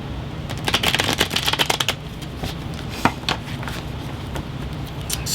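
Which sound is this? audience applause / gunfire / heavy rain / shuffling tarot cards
shuffling tarot cards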